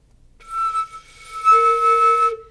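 A single flute note starts high and thin, then drops down to a lower, fuller tone and holds briefly before stopping.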